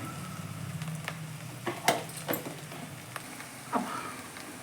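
Garlic sizzles softly in a pan while tomato upma is cooked, a faint hiss broken by a few brief clinks and stirring knocks, with no talk.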